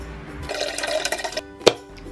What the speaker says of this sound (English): So I'm gonna fill this cup up.